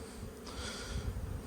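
Carniolan honeybees hum softly at an opened hive on a cool day of about 10 to 12 degrees, a faint, steady buzzing close by with no talking.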